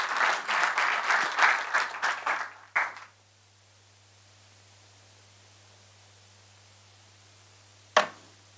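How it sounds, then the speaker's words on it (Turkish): An audience at a June 2022 cultural history lecture applauds to welcome a speaker to the stage: dense clapping for about three seconds that stops abruptly, then near silence broken by a single sharp knock. "bilim insanı Çilenay Elçibey Samet Beyliği kuvvetli alkışlarınızla sahneye davet ediyorum efendim."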